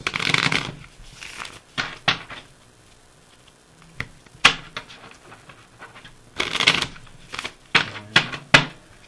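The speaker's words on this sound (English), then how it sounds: "we want to do is shuffle the cards about two to three times" Playing cards being shuffled in several quick riffling bursts, each a crisp flutter of snapping cards, separated by short pauses and small taps.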